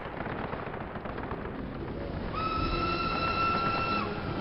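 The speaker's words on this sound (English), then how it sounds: "Oh, we've got train support." A train rolls past in the World War II shooter Call of Duty: United Offensive, a steady rumbling wagon noise that swells midway as a sustained whistle-like squeal rings out over the din, with no talking.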